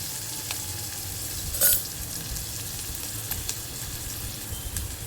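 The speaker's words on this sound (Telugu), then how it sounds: "చూడండి, కొంచెం వేగినవి." Soaked chana dal fries in a pan for a sorrel curry, giving a soft, steady sizzle close by with one brief louder clatter of stirring partway through.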